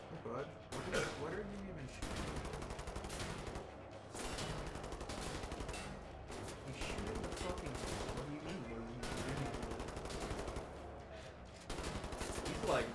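Sustained rapid gunfire from the video game Wolfenstein: The New Order, loud and dense bursts of automatic shots running through nearly the whole stretch, with brief lulls, under occasional talk.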